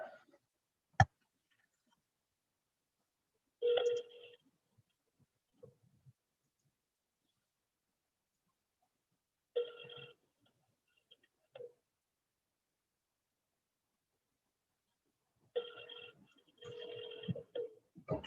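Telephone ringback on an outgoing call, faint and distant, three ring bursts spaced several seconds apart with a single click near the start and silence between rings.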